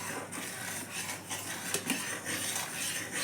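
A spoon stirs milk and sugar in a pan for rabdi, making a steady, continuous rubbing scrape across the metal with slight swells in loudness.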